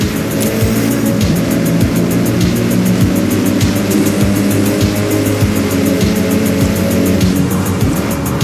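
Rally-prepped car with turbo upgrade and anti-lag in Forza Horizon, engine droning loud and close with a steady stream of rapid exhaust pops and crackles repeating throughout, no voices.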